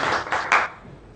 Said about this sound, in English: So please a big applause for Bas Wisselink.